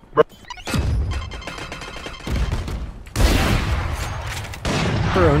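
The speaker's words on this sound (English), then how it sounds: "Her own explosions blocked her view of me." Loud explosions and bursts of gunfire from the tactical shooter video game Valorant, several heavy blasts in quick succession with sharp crashing impacts, up close and without talk.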